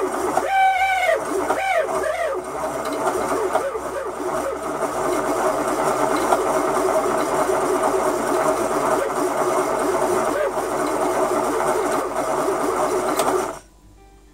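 Weaver YW-100 electric yarn winder running with a steady, close mechanical whir and a rising squeal early on, then a constant hum for about thirteen seconds before it abruptly stops.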